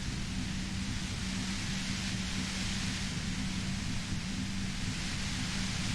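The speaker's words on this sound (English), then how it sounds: "You hear through the white noise. It's especially bad suddenly." Steady broadband static hiss from the video game Disco Elysium, a dense, unbroken wash of noise with a low hum underneath, constant in level throughout.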